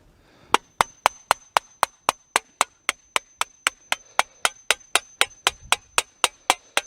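A hammer strikes a metal lid to flatten it, about two dozen sharp, evenly spaced blows at a quick steady rhythm, close and loud, with no talking.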